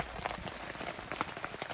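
Rain patters steadily on a tent during a stormy camping trip, a dense, soft drumming of drops close by with no voices.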